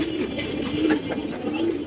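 Pigeons for sale at a seller's home in Mirpur, including Budapest breed birds, coo softly in repeated low throaty phrases, close by with no talk over them.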